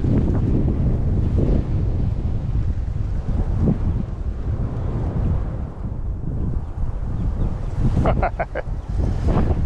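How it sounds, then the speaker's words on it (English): Strong, gusty wind at a pond buffets the microphone, a loud, constant low roar with rushing surges and a few brief rattles near the end, no voices. "Really windy out."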